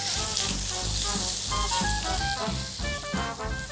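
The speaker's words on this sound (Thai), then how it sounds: "จากนั้นเนี่ยเราก็ใส่หมูของเราลงไปได้ เลยครับ แล้วก็ผัดให้ทั่วๆนะครับ" Pork stir-fried in a pan sizzles steadily, with scraping stir strokes under a layer of tonal background music.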